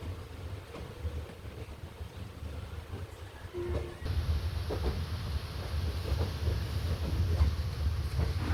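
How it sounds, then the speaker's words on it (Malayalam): The Amritha Express rumbles into Dindigul Junction station, a steady low rolling rumble of wheels on track that swells louder halfway through and keeps up a continuous, close clatter with no speech. "ഡിണ്ടിക്കിൾ ജംഗ്ഷൻ റെയിൽവേ സ്റ്റേഷനിലേക്ക് ട്രെയിൻ കയറിക്കൊണ്ടിരിക്കുകയാണ്"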